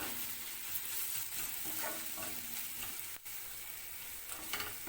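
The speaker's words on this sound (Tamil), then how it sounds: "கலந்து விட்டுட்டு அந்த பச்சை வாசனை போகணும் அது வரைக்கும் நல்லா வதக்கிக்கோங்க" Masala for dal tadka sautés in a pan, a soft, steady sizzle with occasional stirring scrapes, quiet and close without any voices.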